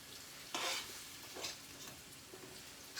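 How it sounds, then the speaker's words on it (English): Onions sizzle quietly in a pan, set to fry before liver is added, with a steady low frying hiss broken by a few louder scraping stirs from a utensil. "Let my onions fry all that."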